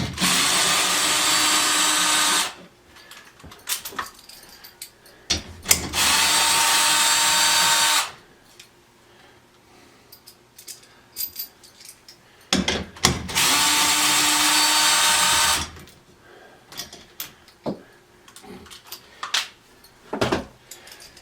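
Power drill fitted with a socket backing bolts out of a TV wall mount, heard as three loud, sustained whirring runs of a few seconds each, separated by quieter gaps with small clicks and handling noises.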